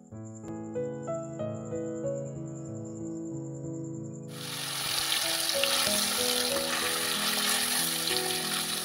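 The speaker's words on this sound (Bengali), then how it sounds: "এখন আমি মাংসগুলাতে মশলাগুলা দিয়ে কিছুক্ষণ ভেজে নেব" Meat frying in a pan with turmeric powder and salt: a loud, dense sizzle bursts in about halfway through and holds steady, with background music playing throughout.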